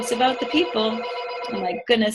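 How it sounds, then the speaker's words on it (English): A telephone rings close by in repeated electronic bursts with short gaps, while a person keeps talking over it. "I'm getting a phone call as we do this."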